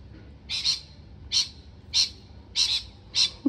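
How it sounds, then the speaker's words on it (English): Lorikeets in a home garden give five short, shrill screeching calls at a steady rhythm, fairly close, over a low background rumble with no talking. "Hello, lorikeets."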